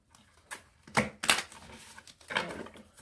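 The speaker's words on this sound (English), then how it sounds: "Another shuffle." Tarot cards being shuffled by hand in a few quick papery bursts, with a louder riffle in the middle and softer rustles before and after, close and alone.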